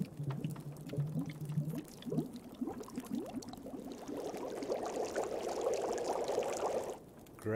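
Water being poured and heated for tea in The Long Dark video game, a trickling, bubbling liquid sound that swells over several seconds before cutting off, heard alone.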